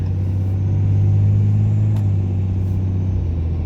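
A 6.7 Cummins diesel pickup with a VGT turbo accelerating, heard from inside as a loud, steady low engine rumble and drone.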